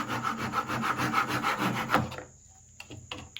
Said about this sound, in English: up next we have our Dazuki saw. I'm going to line it up here. And again, these cut on the pull stroke.